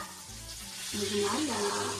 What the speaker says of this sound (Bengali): এখানে তো মাছ ভাজা চলছে